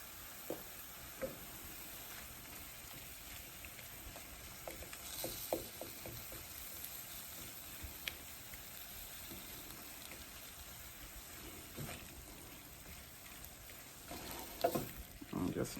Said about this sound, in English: And just mix it all together,